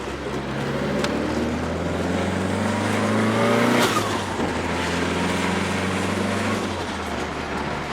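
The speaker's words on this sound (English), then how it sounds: "It's definitely a nice sounding engine though." A Nissan Skyline R31 with an RB six-cylinder engine, built as a drift car with a twin-disc Nismo clutch, roars steadily at close range, its pitch climbing under load, with a brief tire squeal near the middle.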